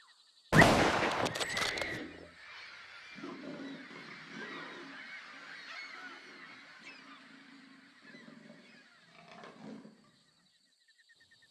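A single loud, sharp rifle shot cracks at close range during a leopard hunt in Tanzania, with the target in a tree. Quieter rustling and honking animal calls follow over several seconds.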